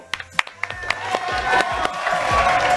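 An audience on a live studio show claps, starting with a few separate sharp claps and building into steady, continuous applause with crowd noise.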